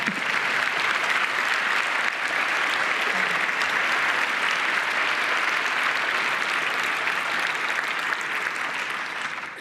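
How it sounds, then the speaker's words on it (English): A conference audience gives a choir sustained applause, a thick wash of steady clapping that holds level throughout and tapers only at the very end, fairly close. "I'm just going to say let's have another round of applause."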